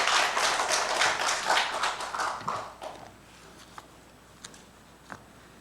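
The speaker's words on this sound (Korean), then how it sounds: "우리 하나님께 영광의 박수를 올려드립니다." A church congregation bursts into applause, dense clapping filling the first few seconds before thinning out to a few scattered last claps.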